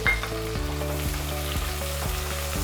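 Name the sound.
green chillies and onions frying in masala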